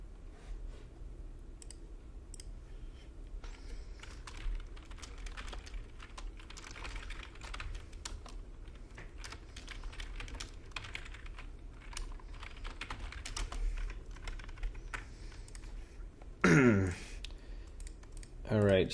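Fast typing on a computer keyboard, a dense steady patter of clicking keys running for many seconds, with a louder clatter near the end and faint speech.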